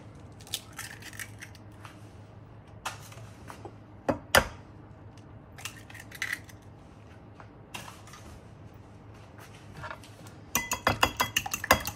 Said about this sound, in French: je vais casser les œufs